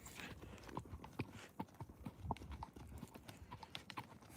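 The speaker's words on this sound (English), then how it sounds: "Just riding my pony across the desert." A pony ridden across open desert clip-clops steadily, its hooves striking in an irregular but continuous rhythm, close and fairly loud with no talk over them.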